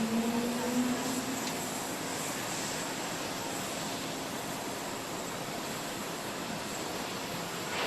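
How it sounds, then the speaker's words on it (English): A French airplane lands in Vietnam, its engine roar a loud, steady broadband rush that holds for the whole stretch with no voices over it. "So this is the French plane landing in Vietnam."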